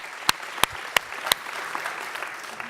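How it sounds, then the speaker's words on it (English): Applause from a small audience at a startup pitch competition, four sharp close claps from someone nearby over a soft spread of clapping that fades after a couple of seconds. "Let's give her another round of applause."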